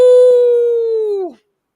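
A wolf howl sound effect: one loud, steady, tonal wail of about a second and a half that wavers briefly, then bends downward and cuts off, heard alone.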